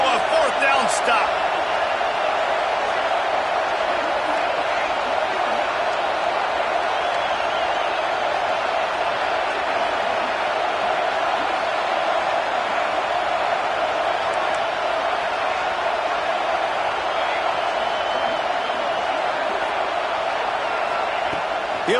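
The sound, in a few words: football stadium crowd roaring on a 4th down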